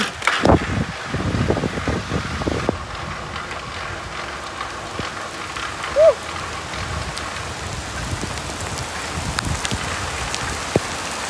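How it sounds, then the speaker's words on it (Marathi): Heavy rain pours steadily in a village, a dense, even hiss of drops on surfaces with a few louder splashes and knocks up close, filling the whole stretch without pause. "तिकडनं आला पाऊस."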